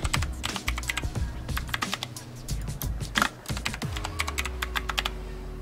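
Rapid keystrokes on a computer keyboard as a password is entered, a quick irregular run of close, crisp clicks and taps with brief pauses, no talking.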